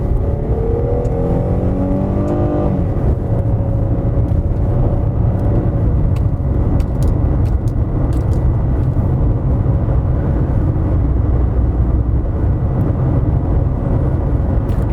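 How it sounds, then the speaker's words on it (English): A Citroen Xantia V6 driving on the road, its engine note steadily rising as the automatic gearbox downshifts in sport mode, with a constant loud cabin rumble and road noise and no talk. "Great chucking it into sport mode and it downshifts for you."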